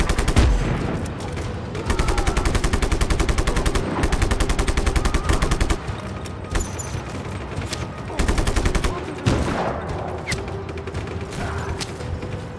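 Rapid gunfire in the video game Just Cause, sustained bursts of fast repeated shots with short gaps and a few sharper single blasts, loud and close.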